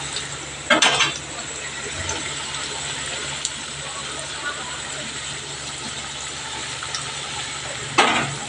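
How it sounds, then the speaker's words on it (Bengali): Lentil fritters (bora), made from unground dal, fry in a pan: a dense, steady crackling sizzle with a couple of louder scraping clatters near the start and end. "দেখো এখানে বড়া ভাজা হচ্ছে"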